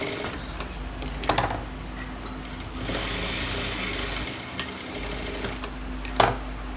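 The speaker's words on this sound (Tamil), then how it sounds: "ஒரு ஹாஃப் இன்ச்சில் ஸ்டிச் போட்டுக்கிறேன்" Sewing machine stitching a seam on a chudidhar top, a steady close whirring run with a few brief clicks and a short pause partway through, no talking.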